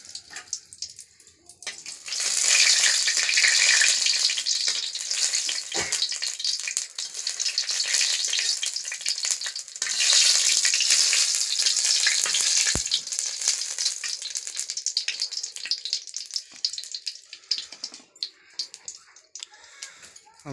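Vegetables hit hot oil with a bay leaf in a pan on a village stove, a loud hissing sizzle that swells, eases, surges again and slowly fades, with faint voices in the background.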